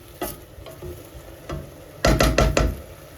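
Broad bean leaves cooking in a pan, heard as a soft background sizzle with scattered stirring knocks and scrapes, then a quick cluster of louder clatters near the end.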